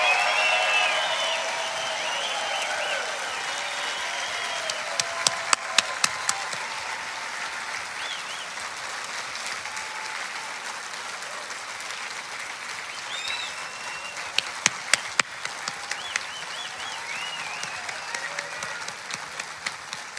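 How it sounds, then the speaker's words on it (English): A crowd at a Fourth of July event at Mount Rushmore applauds steadily for about twenty seconds, a dense wash of clapping with a few sharper claps and whistles standing out. "Would you give them a round of applause?"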